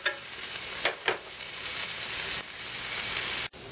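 A pot moved off the hot fire of an outdoor grill, simmering with a steady wash of sizzling and bubbling, broken by a few soft stirring scrapes and a sudden clunk near the end.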